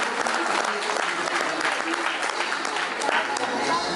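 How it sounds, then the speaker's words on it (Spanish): A community crowd gives sustained loud applause in honor of the local patron saint, San Marquitos, steady dense clapping throughout with voices mixed in. "dando un fuerte aplauso a San Marquitos"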